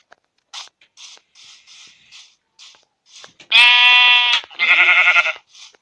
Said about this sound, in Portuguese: Ah, mais uma ovelha agora.